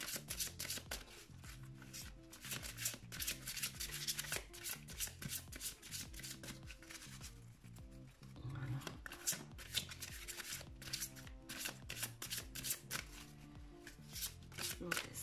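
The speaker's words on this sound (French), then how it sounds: "le temps que je bats les cartes, je vous laisse réfléchir à cela" Tarot cards being shuffled by hand in a steady run of riffling, rubbing bursts, close and fairly quiet, with soft music playing underneath throughout.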